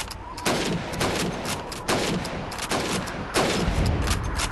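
Rifle fire in the Russian campaign of Call of Duty 2: several loud, sharp shots ring out at roughly one-and-a-half-second intervals, each trailing into a short reverberant decay over faint game ambience.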